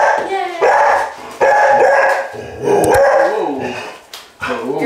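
A dog barks and yips repeatedly in a series of loud, close calls with some howling tones, each ringing briefly in an echoey, emptied room under remodeling.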